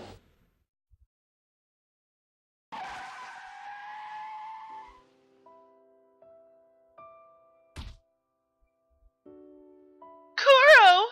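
In a video game, a car skids with squealing tires and thumps into the player, with short electronic tones between the impacts and a final harsh screech.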